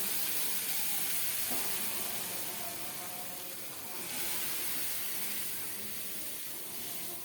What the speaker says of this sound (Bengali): এখন ফোড়নটা কেটে কেটে তরকারিতে দিয়ে দেব এরপরে তরকারিটাও ঢেলে দিচ্ছি